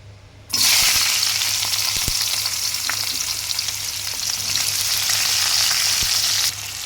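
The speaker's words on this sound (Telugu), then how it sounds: "ఇప్పుడు ఈ ఆయిల్లో ఆనియన్స్ అనేది వేసేసుకుందాం" Onions drop into hot oil in a cooking pan, setting off a sudden loud, continuous sizzle with occasional stirring clinks, then the frying noise drops off abruptly near the end.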